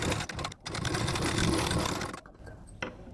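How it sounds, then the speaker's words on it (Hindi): A sewing machine stitches kurti fabric in a fast, continuous mechanical whir, dropping out briefly near the start and easing off toward the end, close-up and loud. "अब इसके ऊपर मैंने देखिए सिलाई लगा लिया है"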